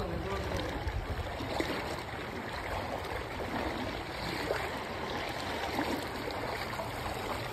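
Fast-flowing stream water rushes steadily and loudly close by, a dense continuous churning roar with a faint voice or two under it.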